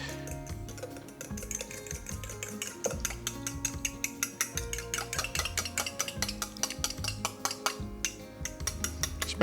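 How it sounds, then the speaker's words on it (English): An egg and half a cup of milk are whisked briskly in a bowl for a fried clam batter, giving a steady run of rapid, close clicking taps that continues throughout. "we'll just whisk this up"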